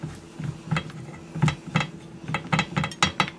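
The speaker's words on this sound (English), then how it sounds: "I'm just going to graduate to a whisk." A whisk beats a pumpkin pie ice cream mixture in a bowl, giving a run of quick, uneven tapping and clinking strokes at close range with short pauses between bursts.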